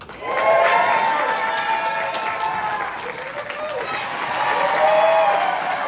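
A crowd applauds and cheers at a Comic-Con world premiere of Super Troopers 3 in San Diego, loud sustained clapping with whoops, swelling again near the end, and voices audible within the noise.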